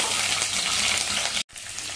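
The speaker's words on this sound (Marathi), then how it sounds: "तेल चांगलं गरम झालेलं आहे. शिमला मिरचीचे कापून घेतलेले तुकडे आपण घालूया." Capsicum pieces fry in hot oil in a kadhai, producing a dense continuous hiss that cuts off abruptly for a moment, then resumes, close and even, with no talking.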